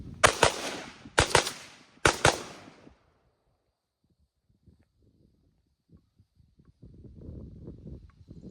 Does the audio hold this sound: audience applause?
no